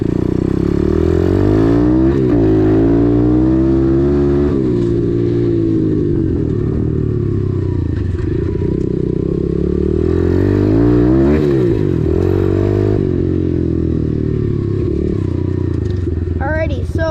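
A motocross dirt bike rides on trails, its engine droning loud and close throughout with rising and falling revs as the throttle opens and eases, a rider speaking over it.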